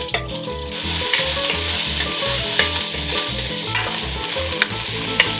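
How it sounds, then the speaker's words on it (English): Onion fries in hot olive oil in a pot over medium-high heat for turkey tortilla soup, making a loud, continuous crackling sizzle with rhythmic stirring knocks and scrapes, close up and without talk. "As my pot is nice and hot, I'm gonna put my onion"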